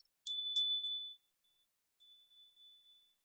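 A small hand bell is struck twice in a quiet room, giving a clear, high, sustained ring that fades, then rings faintly again, with near-silence around it.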